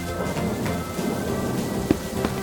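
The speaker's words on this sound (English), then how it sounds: "She and George run outside to play in the rain." Rain falls steadily while thunder rumbles low beneath it, with a couple of brief sharper crackles near the end.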